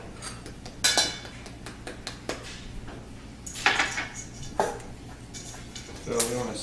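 Chopped nuts and a tablespoon of cinnamon are tossed in a large mixing bowl for baklava, with scattered clinks and scrapes of utensil against bowl and soft rustling over a quiet kitchen background.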